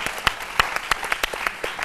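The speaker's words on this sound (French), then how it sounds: "Ça s'applaudit." A television studio audience claps in a brief burst of sharp, separate claps at an uneven rhythm, fairly close and moderately loud.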